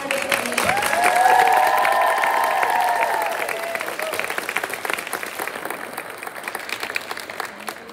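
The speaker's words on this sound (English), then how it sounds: "Audience, let's give them one more round of applause." An audience claps for a group of girls who have just performed, the applause swelling with a few cheers in the first seconds and then tapering into thinner, scattered clapping.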